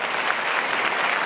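A church congregation applauds visiting members from other churches. The clapping is steady and dense from many hands and lasts the whole brief moment.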